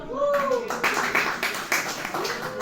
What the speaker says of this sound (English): All my glasses people, round of applause, please.